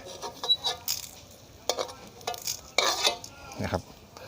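White and red shallots go into a hot pan with galangal for a Thai chili paste, with sizzling and sharp scraping stirs that come in short, uneven bursts up close.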